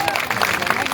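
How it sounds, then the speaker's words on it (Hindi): A crowd at a political rally claps to welcome a speaker, a brief burst of dense applause with voices mixed in. "जोरदार तालियों के साथ स्वागत करें।"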